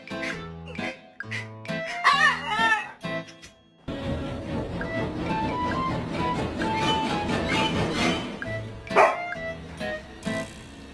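A pet dog barking outdoors in snow, several sharp barks and yips in a burst at the start, then a stretch of dense rumbling noise, with a final loud yelp near the end.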